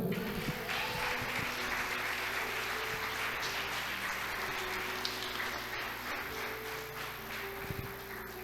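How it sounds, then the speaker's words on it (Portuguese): Church congregation applauding for Jesus during a sermon, a soft, continuous patter of clapping at a distance, with low hum and faint voices beneath. "Aplauda Jesus"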